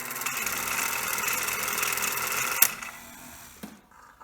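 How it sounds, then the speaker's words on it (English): A White sewing machine winds a bobbin with a steady, fairly loud whirring hum that cuts off abruptly, followed by a couple of faint clicks and near quiet. "That was the very first time my white machine spun a bobbin under my control"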